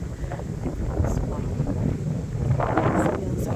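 Outdoor wind near a gym and a small wooded area blows across the microphone as a continuous low rumble and hiss, with gusts swelling now and then. A person talks briefly over it.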